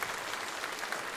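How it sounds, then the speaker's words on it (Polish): Steady, dense applause from a concert audience in a hall, many hands clapping continuously at even loudness with no voices standing out. "to podwójne oklaski. Oklaski, oklaski, oklaski."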